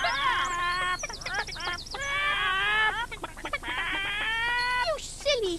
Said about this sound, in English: Oh, what silly hens they are.